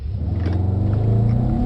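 A Mercedes-AMG E63 S is driven at full power, its engine roaring loudly and climbing steadily in pitch through a brief burst of hard acceleration.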